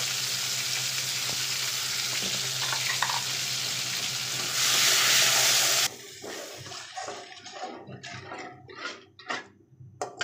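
Garlic and ginger spice paste sizzles loudly in hot oil for about six seconds, then cuts off into a quieter stretch of scattered stirring and clinking.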